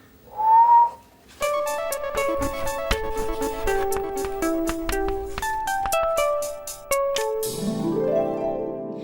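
A short whistled note from a person starts things off, then a lively tune plays with bright plucked or chimed notes in a quick, steady rhythm.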